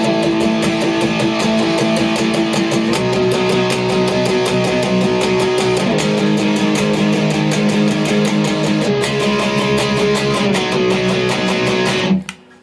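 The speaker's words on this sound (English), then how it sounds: "Now I've got some distortion on and it sounds like this." A distorted electric guitar plays a steady, loud chugging riff with sustained chords that shift every few seconds, then cuts off abruptly at the end.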